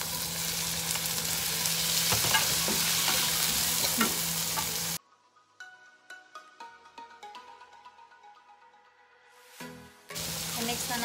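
Chicken gizzards sizzle and get stirred in a hot pan for chop suey, a loud frying hiss with scraping stirs, then a sudden quiet gap with faint clinks and a voice before the sizzling resumes.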